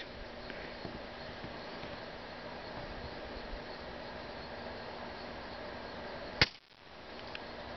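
A single sharp gunshot cracks once against a steady background hiss, loud and abrupt, followed by a brief dip before the noise returns.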